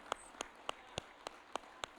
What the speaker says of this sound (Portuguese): Uma salva de palmas para o nosso Deus maravilhoso.